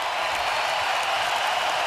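Steady clapping and crowd noise fills an arena at an NHL pre-season game, Montreal Canadiens versus Ottawa Senators in Quebec City, an unbroken roar of applause at even volume.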